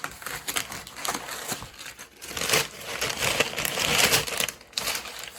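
Brown packing paper crinkled and crushed by hand while a Sephora box is unboxed. The rustling and crackling is close and continuous, with bursts of louder crumpling and no talking.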